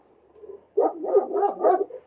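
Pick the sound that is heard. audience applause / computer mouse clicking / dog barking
dog barking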